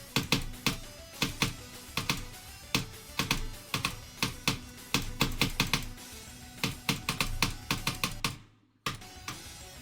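Rapid, hard keyboard keystrokes at the bottom of the key actuation during rhythm game play, a dense, fast clatter of near clicks in bursts, breaking off briefly near the end before resuming.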